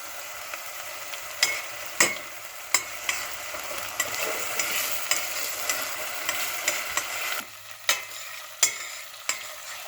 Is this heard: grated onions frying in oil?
yes